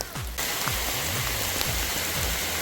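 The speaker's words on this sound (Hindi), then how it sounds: "भाई मस्त बारिश हो रही है, मज़ेदार, जितनी अच्छी बारिश चाहिए थी अपने को, पेल की बारिश हो रही है।" Heavy rain pours down in a forest during a storm, a loud, dense and steady hiss of drops striking surfaces, with a few low thuds underneath and no voices.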